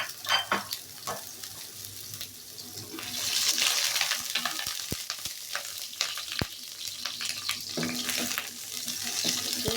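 Medium-sized onion dropped into hot oil in a pan for an okra stir-fry, giving a close, loud rush of sizzling that swells and holds steady, with a few sharp clicks and knocks of utensils.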